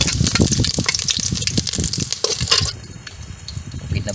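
Ricado spice paste being sautéed over high heat in a pan for adobong kuhol, wild snail adobo, giving a dense, steady sizzle with stirring scrapes that drops to a quieter simmering hiss after a few seconds.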